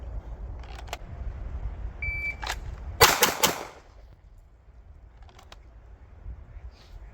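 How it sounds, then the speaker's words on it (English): Three quick pistol shots, fired with a taped-over optic, crack sharply in close succession just after a short electronic timer beep, followed by quiet outdoor range ambience. "I'm merely pointing the gun at the target and pulling the trigger."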